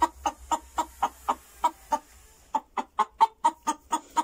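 A chicken lacking a comb, with a rooster-like tail, clucks in a steady run of short, evenly spaced notes, close and clear, pausing briefly midway before resuming at a slightly quicker pace.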